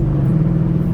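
Deep, steady V8 rumble from a 2013 Mustang GT, a continuous low-pitched drone held close and loud for the whole moment without any speech.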